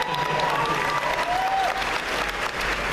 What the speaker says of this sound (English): Applause for my imaginary girlfriend.